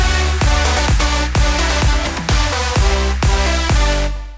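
A layered EDM bass line filled out with sample-pack sounds pumps in a steady beat, punchy low thumps recurring about every half second under a dense synth layer, loud and close, then tailing off at the end.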